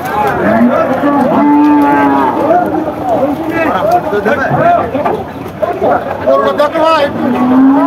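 Cattle moo repeatedly, some lows long and drawn out, amid a busy crowd of chattering voices at the noisy outdoor Shialmari cattle market in Bangladesh.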